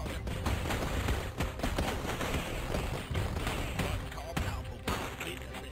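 Dense, rapid gunfire from a handheld gun in the retro shooter Super Wolfenstein HD, loud and continuous with repeated sharp bursts over a busy game soundtrack.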